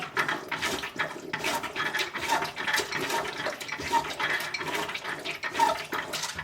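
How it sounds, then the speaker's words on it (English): Tap water splashes and runs in uneven bursts as wine bottles are rinsed and sterilized, close and fairly quiet with irregular gurgles and knocks. "now I'll turn the water on"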